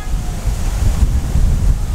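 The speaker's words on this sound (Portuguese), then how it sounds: "O vento deu uma amenizada" Strong wind gusts roar across the microphone outdoors at a kite-flying festival in Americana, a loud, buffeting low rumble that swells and eases without pause.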